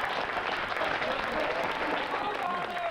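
Wedding guests break into dense, steady applause that lasts throughout, with voices murmuring beneath the clapping.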